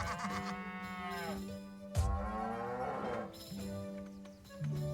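A cow moos repeatedly in the South Park: The Stick of Truth video game, with several drawn-out, close bellows and a louder burst midway over a steady in-game background hum. No one speaks.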